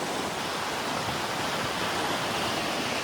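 River water rushes loudly beneath a bridge in Takhar, Afghanistan, a dense continuous roar that stays steady and close with no voices.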